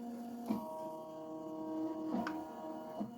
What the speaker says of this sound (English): And the machine is tracing right now.